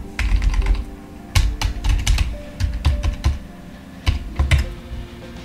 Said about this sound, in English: let's say I type in the wrong password.